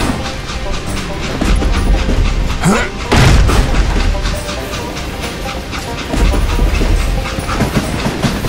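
In the video game Call of Juarez: Gunslinger, a train rolls along the rails with steady clattering rumble and a loud boom near the middle, mixed with gunfire, music and shouting voices.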